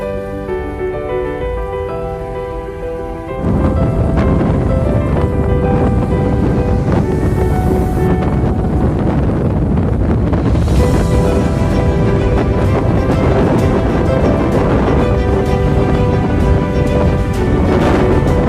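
A ship's engine is started and settles into a loud, steady running roar after a quieter stretch with a tonal hum, continuing unbroken to the end without voices.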